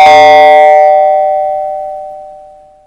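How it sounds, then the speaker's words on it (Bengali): A doorbell gives a single loud, close electronic chime that rings out and fades slowly over about three seconds, with no other sound. "Calling bell বাজালো।"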